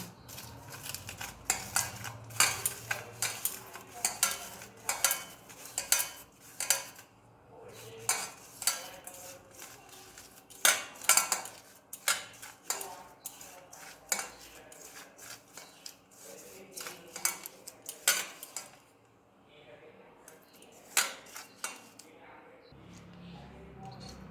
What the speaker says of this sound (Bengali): লঙ্কার বোটাটা ছাড়িয়ে এবার এটাকে গুঁড়ো করে নেব।